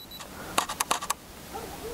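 A camera shutter fires during a landscape photography shoot at dawn, a quick cluster of sharp mechanical clicks close to the microphone in an otherwise quiet setting, with no voices.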